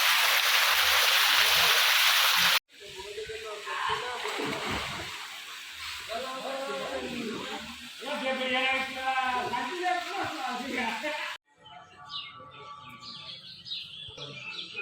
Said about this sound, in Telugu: యాగంటి పైన లోయ నుంచి వస్తున్నట్టు నీళ్ళు